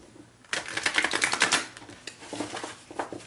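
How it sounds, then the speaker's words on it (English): Stiff new tarot cards are shuffled in quick riffling bursts, a crisp flurry of close papery clicks and flaps that swells, pauses briefly, then resumes more softly. "these cards are very hard to shuffle"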